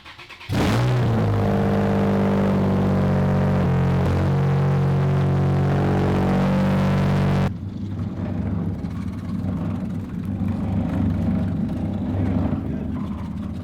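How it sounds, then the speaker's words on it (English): A Nissan Z car runs on open headers, its engine idling loud and rough at close range, with a steady drone that briefly blips before settling into a lower, ragged rumble. "the car is just running headers right now. This thing's gonna be so loud."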